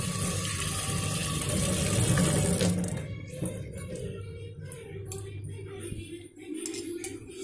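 Running tap water splashes steadily into a sink as a ladle is rinsed, loud and close for a few seconds, then easing to a softer trickle with faint clinks.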